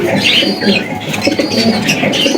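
A female pigeon at a pigeon farm gives soft coos and bird calls, close and continuous over a busy background of farm noise.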